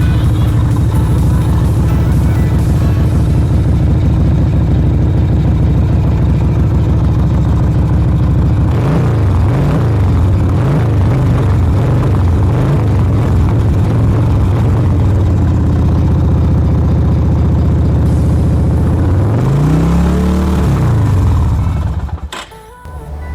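A Yamaha Virago motorcycle engine, starved of fuel after a carburetor and throttle body clean, runs loudly and unevenly up close, with rough, wavering revs and uneven throttle blips before cutting out at the end.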